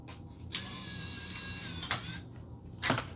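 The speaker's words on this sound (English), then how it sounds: "So we can see that it does grab the game and it spins it." A Nintendo Wii disc drive, freshly lubricated, grabbing a game disc and spinning it, with a whirring mechanical hum and sharp clicks and clunks at the start, middle and end, close and quiet.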